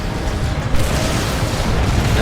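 Manticore rocket strike exploding in Dawn of War 2 during a 3v3 match, a dense, continuous rumble of booms and blasts that rolls on loudly throughout without pause.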